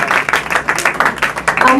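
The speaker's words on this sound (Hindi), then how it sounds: "अगर आप खुश हैं तो एक बार जोरदार तालियां बजाइए" An audience at a Hindi poetry gathering and award ceremony in a press club breaks into brisk, fairly close applause that stays continuous and dense for a couple of seconds.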